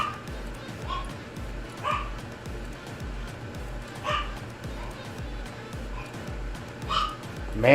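A dog barks in several short, spaced yips and woofs over a steady rhythmic background thumping, moderately loud with a few sharper barks toward the end.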